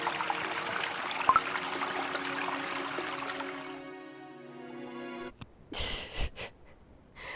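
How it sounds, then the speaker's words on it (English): River water flowing in the video game Cookie Run Kingdom, a steady trickling stream under soft game tones that fades, followed by a few short breathy bursts. "Now there's a river!"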